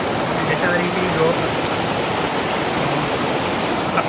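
Water rushes continuously along a hot spring river in Biliran, a steady broadband flow close by with voices faintly under it.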